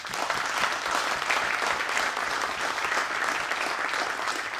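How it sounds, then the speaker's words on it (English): A conference audience gives a full, sustained round of applause for the event's sponsors, dense and even throughout. "So please, these and all the other sponsors, a round of applause"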